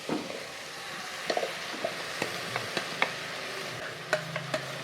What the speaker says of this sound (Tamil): இப்போ நான் வந்து அரைச்ச மசாலா ஊற்றுறேன்